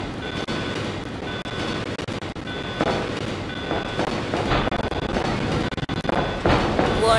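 A moving train in Resident Evil 2 on PS1 rumbles steadily with rhythmic clickety-clack of wheels, a faint repeating alarm tone above, and sharper metallic clanks and squeals near the end.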